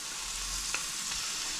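Celery tipped into a pot of beef stew sizzling on the heat, a steady frying hiss with a faint soft drop of the pieces.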